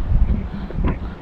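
Strong wind at sea buffets a fishing boat's microphone, a rough gusty low rumble that surges and dips over a brief moment.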